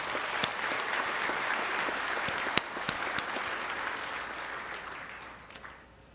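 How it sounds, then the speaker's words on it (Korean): Applause fills a large hall at a national prayer breakfast, a dense, even wash of many hands clapping from a moderately distant audience with a few sharper claps standing out, fading toward the end. "우리 박수 한번 다시 한번 부탁드리겠습니다."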